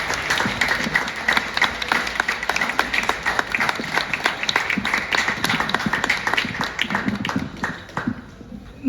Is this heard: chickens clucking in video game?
no